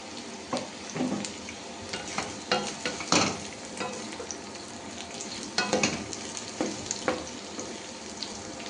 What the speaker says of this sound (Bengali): তোমরা একটু ভেজে নিই